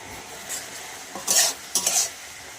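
Spiced chalta (elephant apple) pickle is stirred in a pan, with a few soft scrapes followed by two brief, louder scraping sizzles of a spoon against the pan, close and without talk.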